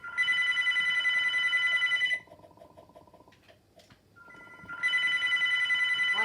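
Telephone rings in the video game Airplane 2 with a bright electronic trill, a long ring, a pause of a few seconds with quieter game ambience, then the ring starting again.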